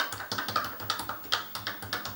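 Rapid, uneven keystrokes on an old Commodore PET keyboard with dirty, unreliable keys, a steady train of close clicking taps with no talk.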